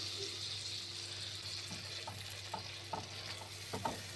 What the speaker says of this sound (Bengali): মিক্সি ধোয়া জলটা দিয়ে দিচ্ছি